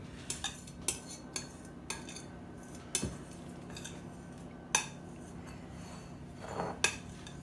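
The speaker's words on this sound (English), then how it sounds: "I scrape everything out" Bread dough being scraped out of a bowl for Dutch oven bread, heard as a scattered series of sharp clinks and taps of utensil against the bowl, close and fairly quiet, without talk.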